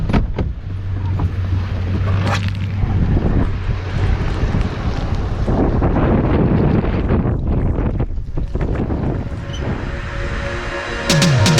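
Strong hurricane wind gusting over a microphone outdoors in Florida, a loud continuous low rumble and buffeting that roars steadily throughout, with brief rattling near the end and no speech.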